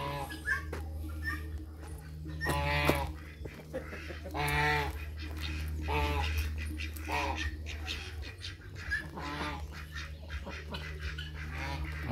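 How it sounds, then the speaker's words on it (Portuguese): A turkey calls with repeated harsh, honking bursts in a bird-breeding aviary, mixed with other fowl calls and a low steady hum; a voice speaks briefly in between. "O peru."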